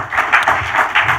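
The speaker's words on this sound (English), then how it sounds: "Let's give them a round of applause." A conference crowd gives a short round of applause for panelists at an African universities innovation showcase, with loud, close, pulsing hand claps in a quick burst of about a second.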